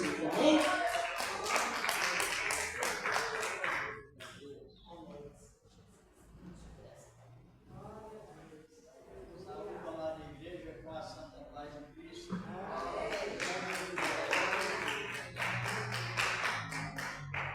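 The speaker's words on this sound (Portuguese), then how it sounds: "Receba o dom com palmas alegres para o Senhor Jesus." Church congregation clapping hands in joyful rhythm during a worship service, quiet bursts of steady claps at the start and end with a calmer, talk-filled middle stretch.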